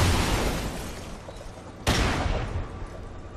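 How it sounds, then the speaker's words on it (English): Flashbangs bursting in a multiplayer video game, two sharp loud blasts about two seconds apart, each trailing off into a broad hissing roar, with no talk. "where are those flashbangs coming from?"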